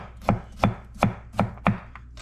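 A knife slices through a peeled garlic clove on a cutting board, giving five evenly spaced, crisp chopping strokes about a third of a second apart, close and clear with no talk.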